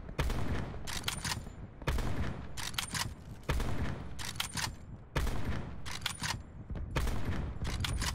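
Rapid bursts of gunfire in Call of Duty Blackout, several loud volleys of shots repeating in quick clusters roughly every second or two, close and sharp with no talk.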